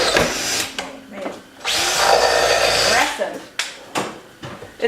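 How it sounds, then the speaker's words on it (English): A power drill whirs in a workshop in short bursts and one sustained run of about a second and a half, with people talking around it. "It's nice to have a drill that works right"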